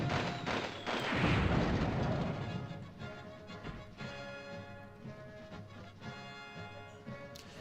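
A mortar round fires and booms in the Army Men toy-soldier war game, one heavy low thump followed by a rolling rumble that fades into quieter battlefield ambience with faint scattered gunfire.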